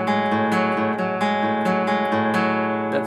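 Acoustic guitar picks out the arpeggiated chord sequence from the intro of a song, plucked notes ringing steadily in an even rhythm, close and clear with no voice.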